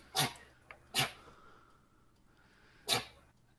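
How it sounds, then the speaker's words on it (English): A cat sneezes twice in quick succession, then once more after a short pause, close by in a quiet room. "That's my cat sneezing."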